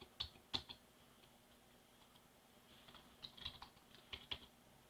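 Keys tapped on a computer keyboard while entering a code in timeclock software, a few quiet, close clicks in short irregular bursts over a faint background hum.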